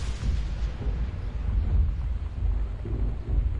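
Thunderstorm in the video game Gone Home, a deep rolling thunder rumble that swells and fades, loud and sustained with no talk.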